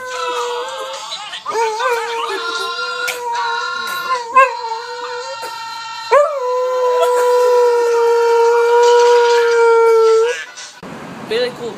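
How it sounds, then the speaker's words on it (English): A dog howls and yips along with Puerto Rican radio songs, its long wavering howls sustained over the music, loud and close, with a brief noisy burst at the end. "this is a video of a dog singing some Puerto Rico funny radio songs"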